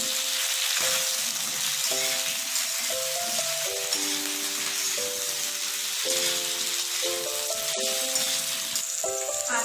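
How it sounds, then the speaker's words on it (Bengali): Ginger paste stirred with vegetables in a hot pan, a continuous loud sizzle with spoon clinks, while music plays underneath. "আদাটা সবজির সাথে মিশিয়ে নেব।"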